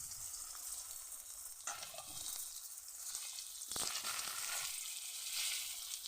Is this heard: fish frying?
yes